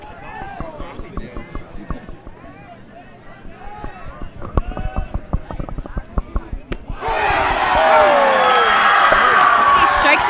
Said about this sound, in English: The crowd just goes absolutely nuts